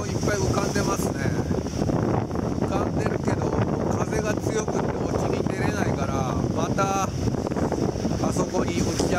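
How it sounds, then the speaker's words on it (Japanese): Strong north wind buffets the microphone at Malibu Beach in Onna, Okinawa, a loud continuous roar with surf underneath while someone talks over it. "あいにくのこの北風がすごいね"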